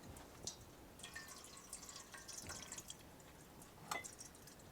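Water trickles and drips as it is poured into a bowl for a pet dog, producing quiet, intermittent splashing droplets with a brighter splash near the end.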